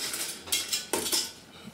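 Spaghetti alle vongole is tossed and mixed in a pan, a few close metallic scrapes and clinks of utensils against the pan over a quiet background, lasting under two seconds.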